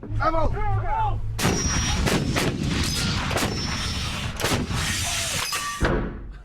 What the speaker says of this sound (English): Even inside the reinforced bunker, we could feel the force of the explosions.